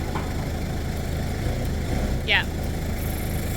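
A forklift engine idles with a steady, low, rumbling hum in a workshop where a heavy old engine block is being moved. A short voice is heard close by.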